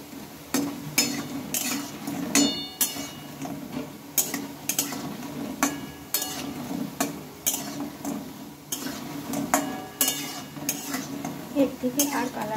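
Raw banana and lentil fritters frying in a pan, with steady clinks and scrapes of a spatula against cookware over a low background hum; no talking.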